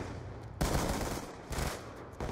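Gunfire from shotguns in a video game, exchanged at close quarters, arrives as three dense, loud bursts, each holding a sustained blast of noise, with a slight pause between them and no talk.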